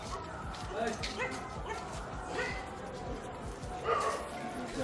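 Several street dogs bark and yip intermittently at a distance amid street noise, with people talking nearby.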